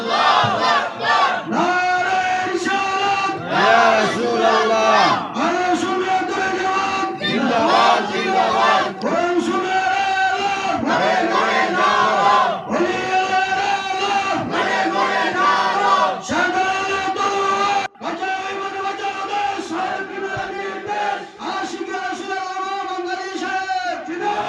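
A large crowd at a Bengali Islamic waz sermon shouts back in loud, repeated call-and-response bursts, voices swelling together in steady waves with no pause throughout.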